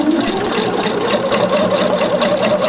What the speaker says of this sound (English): I'm just sewing this directly with just a bit lesser than 6 millimeters.